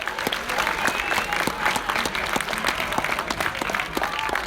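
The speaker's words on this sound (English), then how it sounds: "Big round of applause for both players here." An audience claps steadily through the whole stretch at the Masters final of the 2017 Pokémon Oceania International VGC championships, a dense, even round of applause with faint speech underneath.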